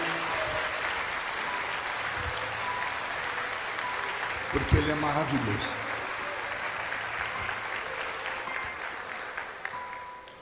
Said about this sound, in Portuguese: os que podem, então, no seu assento, aplaudindo a Jesus